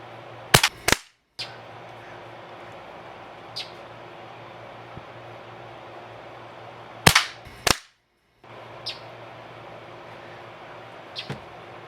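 A restored classic Benjamin 312 .22 caliber air rifle fires: sharp, close snapping reports, a couple in quick pairs, spaced by long quiet stretches with faint mechanical clicks between them.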